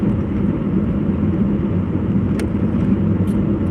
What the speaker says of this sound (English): why is my idle dropping like that?